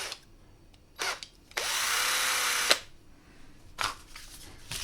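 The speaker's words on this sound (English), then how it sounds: "what we're going to do with these is put them in our drill." A power drill spins a wooden dowel steadily for about a second up close, framed by brief clicks and handling noises before and after.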